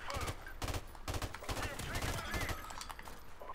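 Gunfire in the shooter game Modern Warfare Remastered comes as loud, rapid bursts of repeated shots with brief gaps between volleys, and a busy game soundscape fills the background throughout.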